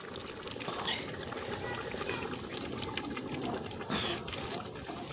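Beaten yogurt is poured from a cup into a pot of mutton, a steady wet pouring and trickling over broad kitchen noise, with a voice speaking partly through it.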